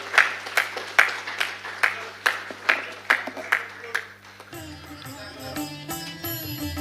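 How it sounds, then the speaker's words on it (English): Audience claps at a lamp-lighting ceremony opening a supercomputing conference in India, a slow rhythmic series of distinct claps over a low hum, fading out as music takes over partway through. "let's give a round of applause and savor this all-important moment"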